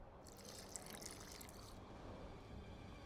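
Water poured into an alchemy flask in The Witcher 2, a faint steady trickle and splash with a hissy high edge for the first two seconds, then a soft wash of background ambience.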